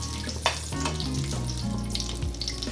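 Four or five pressed garlic cloves sizzling in already-hot oil, a steady close crackling fry with a low hum running underneath.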